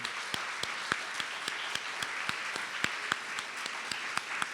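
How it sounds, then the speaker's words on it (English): An audience applauds at a 3MT/MT180 research talk competition, with sharp claps repeating at a fairly even pace over a soft wash of crowd noise. "please stand up and wave, and we'll give you a round of applause"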